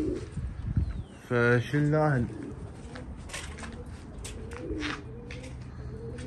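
Pigeons coo among birds, a short run of soft throaty coos in the middle, with people talking around them throughout.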